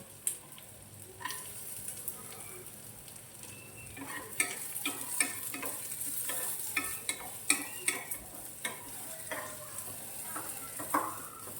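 Onion and coconut roasting in oil in a home kitchen pan, a soft steady sizzle under repeated scraping stirs and light clinks of a spoon against the pan, with no talk.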